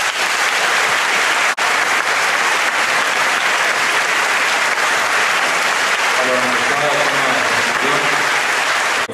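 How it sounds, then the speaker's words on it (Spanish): Loud, sustained applause from an audience at a university signing ceremony for an academic and labor justice agreement, dense clapping throughout with a voice speaking over it near the end. "Les damos un fuerte aplauso."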